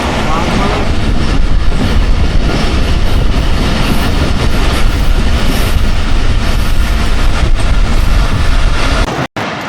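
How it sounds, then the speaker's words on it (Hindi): Musa Pak Express passenger train running on the rails between Multan and Lahore, heard from on board as a loud, constant rumble with rhythmic clickety-clack of wheels, sustained without a break. "ट्रेन हमारी मियां चन्नू रेलवे स्टेशन पे अप्रोच बना रही है"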